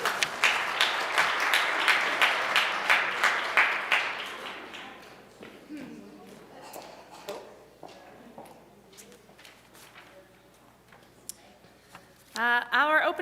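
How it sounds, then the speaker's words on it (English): A congregation at a Sunday church service applauds warmly for about four seconds, then the clapping thins into scattered claps and room noise before a short burst of sound at the end. "Give yourselves a round of applause."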